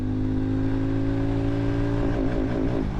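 Hero Mavrick 440 motorcycle engine holding a steady, loud drone under acceleration, then the pitch wavers as it shifts toward a higher gear during a top speed run, close and continuous.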